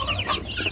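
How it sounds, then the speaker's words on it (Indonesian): One-month-old free-range village chickens cluck and peep in a rapid cluster of high, chirpy calls at feeding time, close by and fairly loud. "Malam ini kasih makan ayam dulu kita nih."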